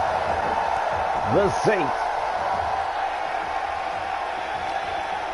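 A steady roar of arena crowd cheering in the WWE 2K18 wrestling game, continuous and moderately loud, with a commentator talking over it.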